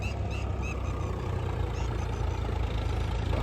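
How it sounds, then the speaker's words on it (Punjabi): Two tractors working a harvested maize field, ploughing after levelling, give a steady, continuous low engine rumble at moderate distance, unbroken throughout with no speech. "ਉਹ ਸਾਹਮਣੇ ਚੱਲਦੇ ਨੇ ਦੋ ਟਰੈਕਟਰ ਆਪਣੇ"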